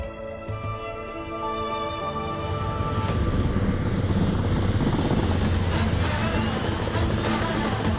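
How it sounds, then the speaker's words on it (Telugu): A helicopter arrives in a movie scene, its rotor and engine drone swelling from faint to loud and steady as it draws near, with no talk over it. "హెలికాప్టర్ వస్తుంది ఏంటండి?"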